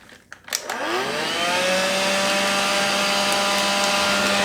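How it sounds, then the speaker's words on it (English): A small handheld vacuum cleaner at a fly-tying bench starts after a few clicks and spins up to a loud, steady whine with a strong hum, sucking up loose deer hair. "I'm going to take 30 seconds to vacuum up all this deer hair"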